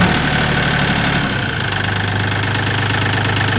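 A Kioti CK10 compact tractor's diesel engine cranks and catches, then settles into a steady, close, loud idle around 900 RPM with a low, even knocking throb.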